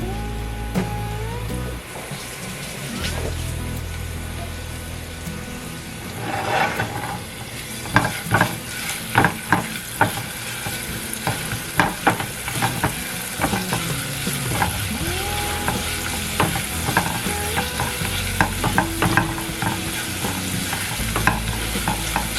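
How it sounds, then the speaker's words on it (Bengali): Ginger garlic paste sizzles in a small amount of hot oil for beef, a steady crackling fry broken by repeated scraping and stirring clatter from a spoon in the pan, close and continuous with no voices. "তেলটা একটু গরম হয়েছে, এখন আমি আদা রসুনের যে পেস্ট কুচিটা সেটা দিয়ে নিছে।"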